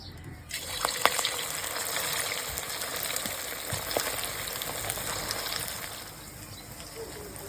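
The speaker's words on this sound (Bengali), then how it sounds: "কড়াই তেল গরম করে নিয়েছি, এবার চলো চিকেন পকোড়াগুলো ভেজে নেব।" Chicken pakoras fry in hot oil in a wok, giving a steady, dense sizzling hiss close by that runs throughout with occasional brief pops and crackles, without talk.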